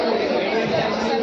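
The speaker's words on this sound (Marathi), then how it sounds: "गर्दी. इथं तर काय बघण्यासारखं नाही आहे." Dense crowd chatter fills a busy agricultural exhibition at Baramati, a steady wall of many overlapping voices nearby, continuous and loud with no single voice standing out.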